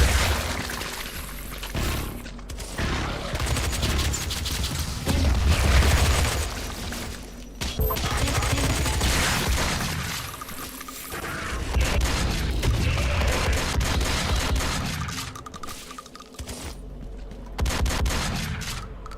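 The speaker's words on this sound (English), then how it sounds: "My shotgun is like in machine gun mode." Rapid bursts of shotgun fire repeating like a machine gun in the video game Quake, loud and continuous with heavy booms and chaotic game action throughout, no talking.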